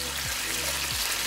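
Peppers and jalapenos fry in a pan, giving a steady, close sizzle with a soft low hum underneath and no talk.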